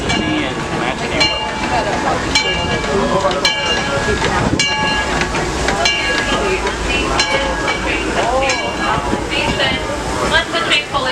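The Disneyland Railroad train rolls along with steady loud rumbling, hissing and clanking, while people talk over it throughout.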